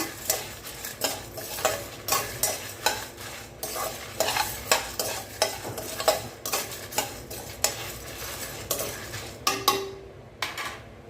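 Chana dal and fenugreek seeds dry roasting in a pan, stirred with a steady rhythm of repeated spoon scrapes and rattling grains, moderately close, with no voices.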